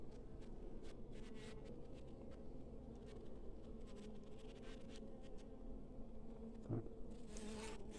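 Honeybees hum steadily around a queen that has just emerged from her cell in a quietly superseding colony. The low drone of many bees stays close and constant, and brief louder buzzes pass by now and then.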